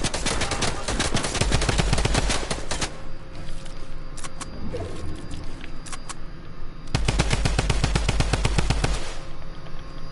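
Video game gunfire in long, rapid automatic bursts, loud and close, with a quieter stretch of scattered shots between the two heavy volleys.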